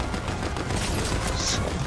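Rapid gunfire from the video game Fortnite fills the stretch, a dense, loud burst of overlapping shots and impacts with no clear pauses and no voices.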